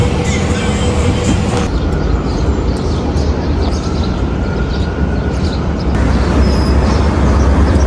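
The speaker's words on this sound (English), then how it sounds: "I'll see y'all when we get off the bus" A New York City bus ride fills the space with a loud, steady low rumble of engine and road noise, broken by shifts in the drone as the bus moves.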